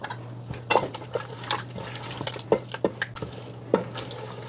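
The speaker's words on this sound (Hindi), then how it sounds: "आपने इसको अच्छी तरह से एक मिक्स दे देना है" Spoon clinks and scrapes against a pan while kaleji masala with fresh coriander is mixed on a tawa, irregular knocks and clatter over a faint steady hum, close and moderately loud.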